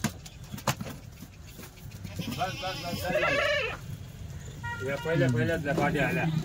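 Kathiawadi goats bleat in repeated wavering calls at a livestock sale, close by, with people talking in the background.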